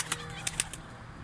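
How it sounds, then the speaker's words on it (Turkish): A bird bursting into flight from a coop, several quick sharp wingbeat flutters in the first moments, then fading into a quiet background. "Uçurduğun kuş mu?"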